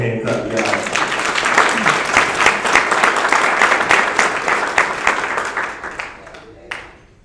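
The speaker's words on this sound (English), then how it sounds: "Let's give him a hand clap, guys." A crowd at a graduation ceremony claps together for several seconds in a dense, steady burst of applause that thins out and fades near the end.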